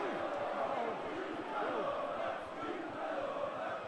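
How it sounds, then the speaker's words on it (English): Crowd at a 2011 England v Exiles rugby match cheering loudly, a dense sustained roar that continues under a commentator's voice. "It's brought the biggest cheer of the night from this crowd."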